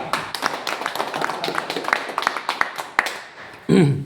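A small audience at a stage program claps in scattered, uneven beats for a few seconds, the claps fairly close and distinct, before a voice begins speaking at the end.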